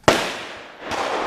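Shotgun fired at a clay target at Elk Neck State Forest shooting range: one loud, close blast with a decaying tail, followed by a second, softer rising noise about a second later.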